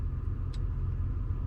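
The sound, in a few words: GMC Sierra 2500HD Denali truck engine while parking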